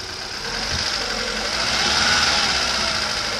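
A car engine is revved up from a low hum into a louder, sustained mid-pitched drone that holds steady, close by.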